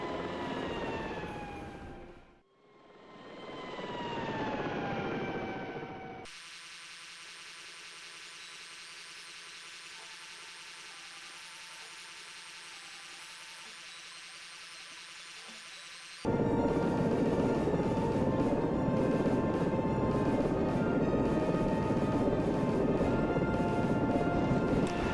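Aircraft engine drone from a pilot simulation game, a loud continuous roar that sweeps in pitch, then settles into a steady hum, then jumps to a harsher, louder engine noise for the final stretch.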